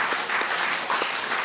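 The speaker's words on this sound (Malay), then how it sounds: "Kita berikan tepukan" An audience at a professorial inaugural lecture claps for the professor's family, a brief burst of steady, close, full-sounding applause with no voices over it.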